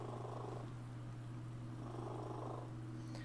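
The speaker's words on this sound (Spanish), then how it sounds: "Y ronronea mucho más alto porque es sordo también" A deaf cat purrs loudly and steadily right up close, a continuous rumbling drone with a regular breathing rhythm and no voices over it.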